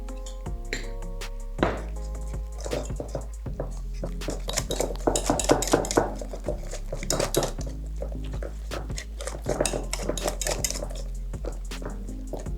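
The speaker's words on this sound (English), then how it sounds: "You're just whisking very gently" Onion bhaji batter for a vegan recipe is whisked gently in a bowl with a utensil, giving irregular clinks and scrapes against the bowl, close and clear over a low, steady tonal background.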